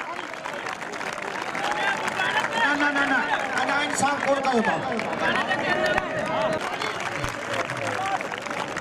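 Crowd clapping and cheering at an outdoor kabaddi and kushti match in Tando Adam, Sindh, a dense steady roar of applause and voices with someone speaking over it throughout.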